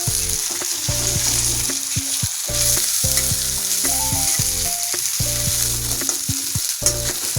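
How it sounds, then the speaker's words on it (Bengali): Chopped onions fry in hot oil for a hilsa fish curry and are stirred now and then, giving a loud, steady sizzle with tonal background sounds running underneath throughout. "ফার্স্টে পেঁয়াজটা দিয়ে দেবো, ভাজা ভাজা হয়ে গেলে তারপরে পেঁয়াজ বাটাটা দিয়ে দেবো।"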